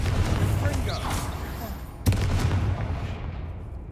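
A Confringo blasting spell goes off in the video game Hogwarts Legacy, a sharp burst that stands out midway through a dense, rumbling game soundscape, with a voice heard around it.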